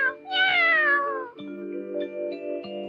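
A stray cat meows in a cartoon: one long, wavering, drawn-out meow, then a steady purring hum broken by a few small tonal blips; close and clear with no talk.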